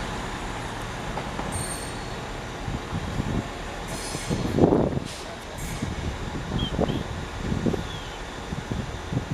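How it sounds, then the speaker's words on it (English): Trains move through Doncaster station on the East Coast Main Line, a continuous rumbling roll with clanks and brief wheel squeals, moderately loud with no talk. "Got these trains everywhere here."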